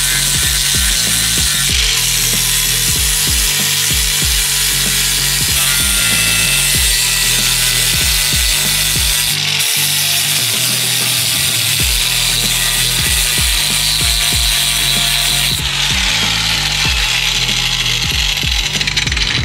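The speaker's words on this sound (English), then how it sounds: "Did you see how the rust came off with the grinder?" An angle grinder scours rust off the body of a 2004 Acura RSX, a loud, continuous abrasive whine and scraping that rises and shifts in pitch as the disc bites the metal.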